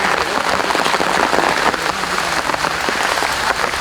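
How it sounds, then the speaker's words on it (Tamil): Heavy rain pours steadily through a rainforest, a dense, continuous hiss of drops on leaves and ground that stays loud and close for the whole stretch with no breaks. "பார்க்கும்போதே உங்களுக்கு தெரியும் சரியான மழை"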